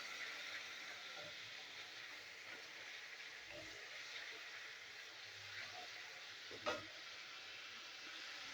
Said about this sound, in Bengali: তো মশলা আমি ভালো করে কষিয়ে নেবো